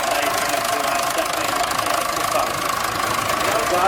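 A 1942 John Deere tractor engine running at a steady idle with a knocking, rumbling pulse, close and loud, during an outdoor tractor parade.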